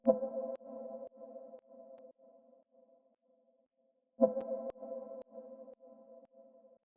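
A deep lo-fi house synth sample plays short chord stabs whose filter envelope snaps open and shut, each hit plucky and bright then fading; two phrases of quickly decaying stabs, clean and alone.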